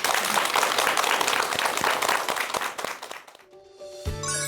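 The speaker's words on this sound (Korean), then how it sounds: "여러분 큰 박수 부탁드립니다." An audience at a talk-show lecture gives dense, loud applause for about three seconds, which fades quickly into soft musical tones.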